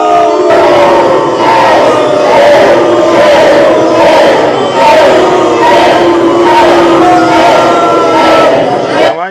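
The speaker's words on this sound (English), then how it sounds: "They just started booing." A large crowd boos in sustained, rhythmic waves, loud and dense throughout, with no distinct voices above it.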